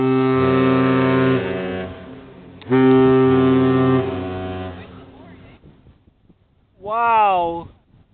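Deep, loud horn blasts from the Great Lakes freighter Wilfred Sykes sailing up a river: two long sustained honks of about two and a half and one and a half seconds, then a shorter bending call after a brief pause.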